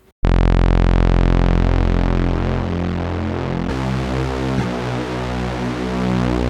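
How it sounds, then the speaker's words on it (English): A dense, sustained synthetic tone from an Arturia stereo refraction effect, with shimmering, modulated copies spreading across the stereo field, shifting character partway through and continuing steadily without any voices. "This one creates copies of a sound and spread them in the stereo spectrum with some sort of modulation."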